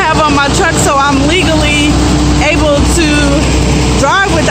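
A semi truck engine running loud and steady through a regen cycle, a constant low rumble filling the whole stretch while someone talks over it.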